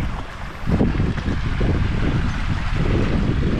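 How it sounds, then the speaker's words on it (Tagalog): Strong wind roars steadily against the microphone, a loud continuous rumble that swells after a moment and stays constant. "Eh, lakas ng hangin din pag umabagat dito."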